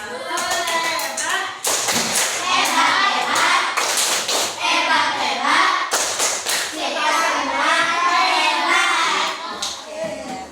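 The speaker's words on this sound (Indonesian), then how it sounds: "Kita coba tepuk hebat dulu buat kita semua." Children in a classroom clap their hands together in a rhythmic group clapping routine, loud and close, with quick patterned bursts broken by brief pauses and mixed with voices throughout.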